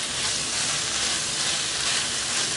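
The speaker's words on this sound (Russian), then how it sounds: "вот наше мясо обжаривает" Cubes of meat fry in a pan for a home-cooked spaghetti dish, making a loud, continuous, close sizzling hiss that never lets up.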